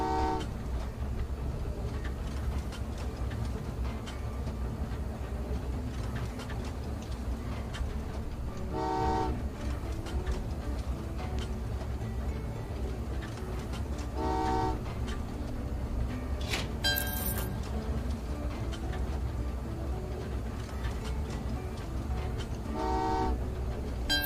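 Trains in the video game Train Valley 2 rumble along steadily in the background, with several short horn toots spaced out and a brief bright chime near the middle, and no voices.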